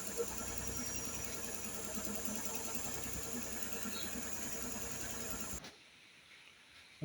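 A rebuilt Nissan RB20 engine idles on its first morning start, a steady low rumble held evenly for several seconds before cutting off abruptly near the end.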